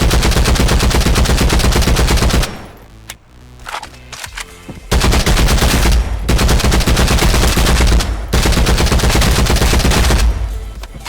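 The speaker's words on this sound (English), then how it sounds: "this gun hits hard, has good rate of fire" A compensator-fitted gun fires in Contractors Showdown, loud rapid automatic bursts with a short gap of scattered shots and clicks between sustained strings of fire.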